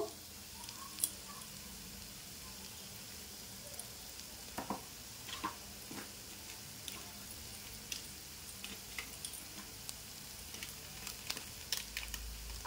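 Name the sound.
ground spices, turmeric and cumin, frying in oil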